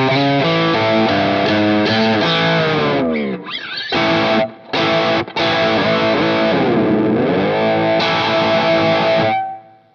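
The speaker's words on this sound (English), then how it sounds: "I wonder if it does like distortion or rock," Fender Stratocaster 1954 reissue electric guitar played through heavy distortion, loud sustained chords and bends with a brief scrape and dive near the middle, then held notes ringing out and cutting off at the end.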